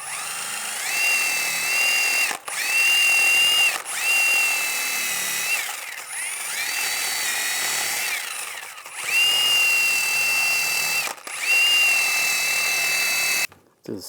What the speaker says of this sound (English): Just use a wire brush, get some of the corrosion and rust off.